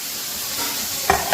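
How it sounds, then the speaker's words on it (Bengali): Fish frying in a pan gives a steady, close sizzle and hiss that holds evenly throughout, with a brief clatter near the end. "এখানে হচ্ছে এটা ভাজা হচ্ছে"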